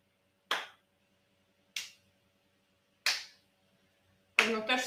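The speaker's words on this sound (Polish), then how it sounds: "Pewno też słyszycie klaski." Three sharp, separate hand claps ring out at a steady spacing, close and fairly loud, alternating sides as part of a classroom robot-dance coding game, followed by a brief louder burst of sound at the end.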